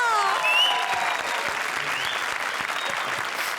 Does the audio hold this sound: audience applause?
yes